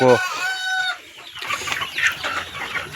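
A Sonali rooster crows loudly up close, and once the crow breaks off, several chickens cluck and murmur in a busy poultry yard.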